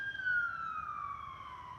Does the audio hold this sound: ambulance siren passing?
yes